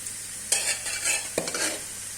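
Potatoes frying in a pan with sizzling and a few soft stirring scrapes, close and moderately quiet, with no talk.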